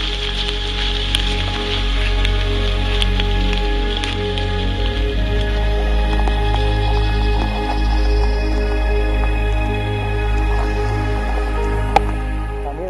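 Rain falling steadily on a cold mountain trail in Doi Inthanon, a constant close patter with drips over a low rumble.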